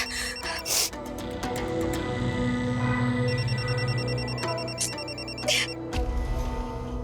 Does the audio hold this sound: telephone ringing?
yes